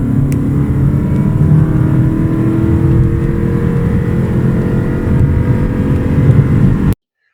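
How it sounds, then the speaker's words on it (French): A hybrid car with roughly 197 horsepower accelerates hard, its engine holding a loud, steady, droning howl at constant revs for about seven seconds before cutting off abruptly. "À chaque accélération, le moteur se met à hurler et reste à régime constant."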